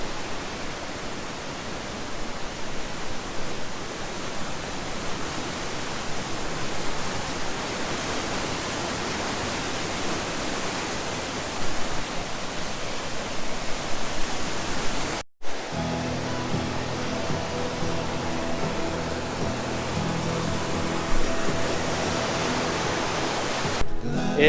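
A flooded, glacier-fed stream rushes in a loud, dense, unbroken roar of churning water, close by. A brief dropout around midway is followed by the same steady torrent with a faint hum underneath.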